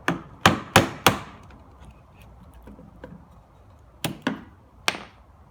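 A chisel is tapped into wood with hand tools while cutting a cross lap joint: about seven sharp, close knocks, a quick cluster of four, a pause, then three more, with a faint room hush between.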